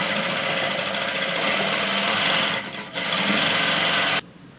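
A sewing machine stitches the back panels of an umbrella frock together, a steady close-up whirring run that dips briefly midway, then resumes before stopping abruptly near the end.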